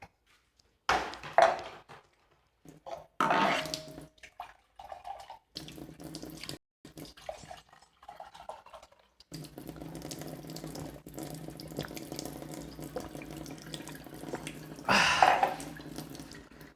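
Water poured and running into a glass, heard as intermittent splashing and trickling bursts, then a longer steady stream with gurgling that rises in pitch, fairly close and alone.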